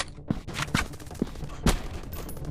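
Gunfire in a PUBG-style first-person shooter video game: four or five sharp, separate shots spaced irregularly over a couple of seconds, fairly close, with no talking.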